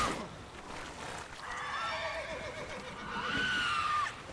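Horse neighing in the video game Witcher 3: a whinny in the middle and a second, longer one near the end, clear and fairly close over quiet game ambience.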